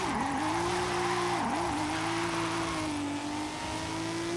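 A car in Forza Horizon 5 sliding through an e-brake skid, with a steady loud engine drone that dips briefly, mixed with tire noise, continuous for a few seconds.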